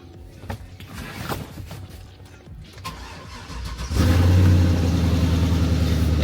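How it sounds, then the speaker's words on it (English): A tow truck's engine cranks and catches, settling into a loud, steady idle after a few seconds of quieter mechanical clatter. "And the truck's on."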